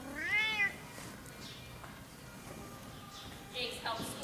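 A cat lets out one clear, rising meow close by, followed by quieter rustling and faint voices in the background.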